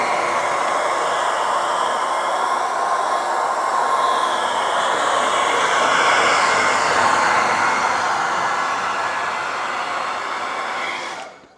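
Steady, loud broadband blowing roar of a heat gun running continuously to soften adhesive on a Tesla Model 3 spoiler, with no talk, cutting off abruptly at the end.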